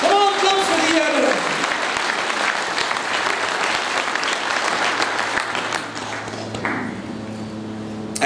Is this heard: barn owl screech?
no